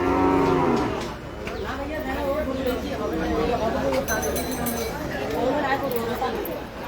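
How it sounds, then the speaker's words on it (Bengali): Cattle at a busy livestock market moo in long, loud, close calls, one at the start and more in the middle and end, over a constant murmur of crowd chatter. "প্রচুর গরু আসছে।"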